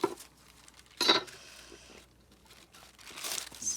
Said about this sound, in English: Let's tear that out too